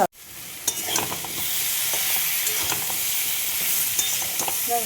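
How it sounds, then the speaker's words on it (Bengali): Drumstick stalks, green chilli and vegetables fry in a pan with black and white mustard seeds, a steady close sizzle broken by scraping stirs and clinks of the spatula, with no one speaking. "সবজিগুলো মোটামুটি ভাজা হয়ে গেছে।"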